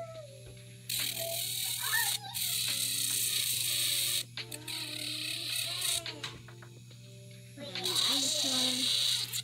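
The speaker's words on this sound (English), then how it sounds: "file it down like you're filing a stiletto" An electric nail file buzzes steadily while shaping a gel nail into a stiletto point, running in long stretches with short pauses. Its whine shifts in pitch as the pressure changes, and someone talks over it.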